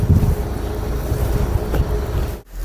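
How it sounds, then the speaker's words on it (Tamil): Strong, steady wind in Tajikistan rumbles and buffets the microphone throughout, with a brief dip near the end. "தஜிகிஸ்தான் காற்று"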